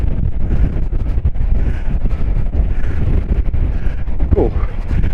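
A strong gale blows along the Paphos seafront, roaring loudly and continuously, with gusts buffeting the microphone throughout and no let-up.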